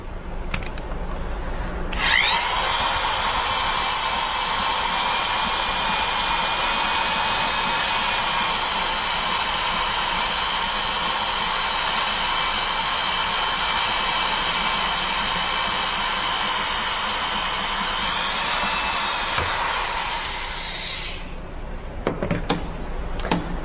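A power drill whines at a high, steady pitch for about twenty seconds as it drives a knurling tool through a cylinder head valve guide, grinding through metal, then winds down and stops.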